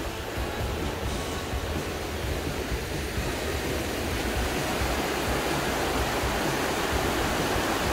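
The Areuse river runs high with lots of water, giving a steady, loud broadband rush of flowing water close by, continuous throughout with no voices.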